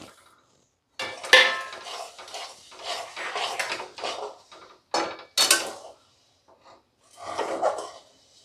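Sesame seeds are stirred in a ghee-brushed kadai over low heat for til chikki, giving intermittent dry scraping and rustling bursts of a utensil against the metal pan, close and fairly loud, with short quiet gaps and no talking.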